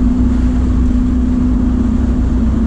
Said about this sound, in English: opens up and unleashes that full glorious V12 noise